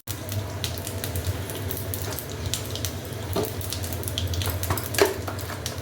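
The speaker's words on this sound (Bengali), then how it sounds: "আবারও কড়াই সর্ষের তেল দিই, অল্প একটু তেল। এবার দেব 5 ফোড়ন" Panch phoron spices fry in a little mustard oil in a wok, giving a close, continuous sizzle with scattered pops and light crackles throughout, and no talk.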